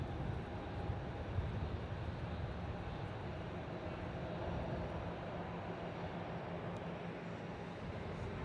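A Jetstar airliner taxis out toward runway 27 at Melbourne Airport, a steady broadband engine roar and hiss heard from a distance, even and unbroken throughout.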